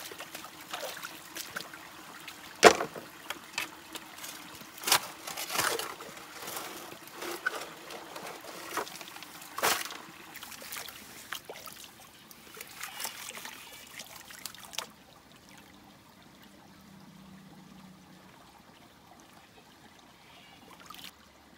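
Gold panning in a creek, gravel and water swirled in a pan: irregular sloshing, trickling and gritty knocks up close, then a quieter stretch of soft water near the end.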